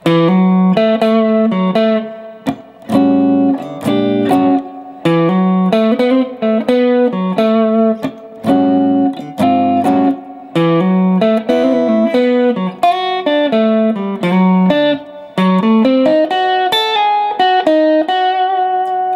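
Electric guitar plays two lines of tasteful major blues licks, crisp single notes and short phrases with bends and slides, separated by brief pauses, clean and close with no talking.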